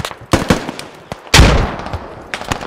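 Gunfire in the military shooter game Squad during a 50 vs 50 match: a few sharp, loud shots crack in quick bursts, with one heavy, booming report in the middle, over faint background noise.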